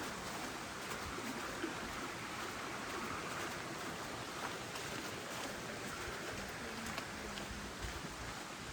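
A hillside stream at Wharncliffe Side, Sheffield, flowing down toward the River Don, rushes with a steady, broad hiss of moving water, continuous and unbroken, with no voices.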